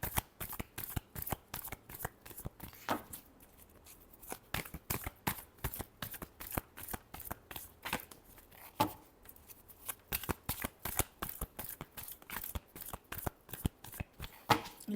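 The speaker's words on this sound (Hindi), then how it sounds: "last shuffle" Tarot cards being shuffled by hand, a long run of quick, crisp riffling flicks in steady bursts with brief pauses, close and fairly quiet, with no talking.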